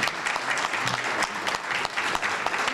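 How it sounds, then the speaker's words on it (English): Enthusiastic audience applause at a historic tax credit event in Concord, a loud, dense wash of many hands clapping steadily from start to finish, with no one speaking over it. "You can clap for that one."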